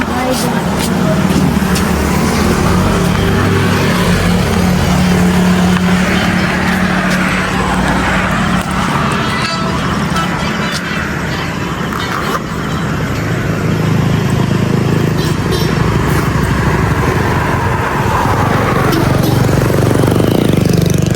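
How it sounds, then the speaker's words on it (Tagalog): Continuous roar of heavy highway traffic with many vehicles passing close by, engines rumbling throughout while people talk over it. "Yun, maraming sasakyan."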